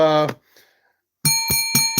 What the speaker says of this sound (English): Still got the bell here.